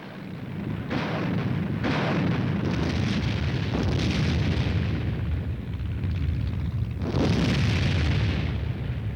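Anti-aircraft artillery guns firing in a military training exercise, a series of heavy, rumbling booms that roll into one another, with a loud sustained blast near the end.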